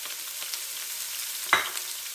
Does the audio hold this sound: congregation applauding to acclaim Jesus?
no